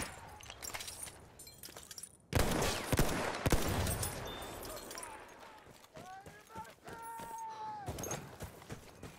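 Machine gun fire in the Battlefield 1 video game: a loud, dense burst of rapid shots after a quieter opening, then scattered distant gunfire and clatter under in-game voices.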